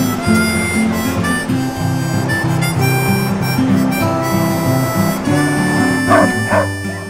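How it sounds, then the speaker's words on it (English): Excited sled dogs at a summer training camp near Skagway set up a constant, loud chorus of barks, yips and whines. It carries on without a break, full and close. "At the top, we met up with a team of excited sled dogs who were ready to whisk us off on a wheeled sled through the Tongass National Rainforest."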